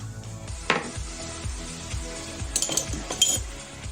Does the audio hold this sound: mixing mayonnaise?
yes